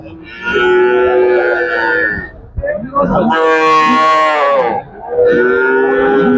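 Cattle moo loudly nearby at Vaniyamkulam livestock market, Kerala, three long drawn-out bellows with short pauses between.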